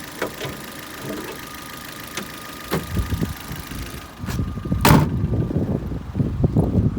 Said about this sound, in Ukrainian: Працює двигун рівно.